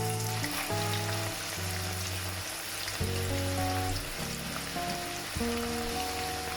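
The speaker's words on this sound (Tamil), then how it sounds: "எண்ணெய் சூடாகினா பிறகு கடலைப்பருப்பை போடுறேன்." Chana dal (split chickpeas) frying in hot oil on a stove for a spicy Sri Lankan-style mixture, giving a steady dense sizzle and crackle like rain on a surface, close and continuous without any voices.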